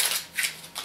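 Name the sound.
scissors cutting paper slips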